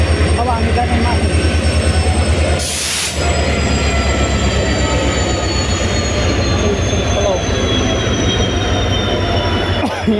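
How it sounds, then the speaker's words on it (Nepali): A train at an Indian railway station rumbles loudly and steadily close by, with a high metallic wheel squeal running throughout and a short burst of hiss partway through. "यो चाहिँ ट्रेन अब हामी जाने माथि"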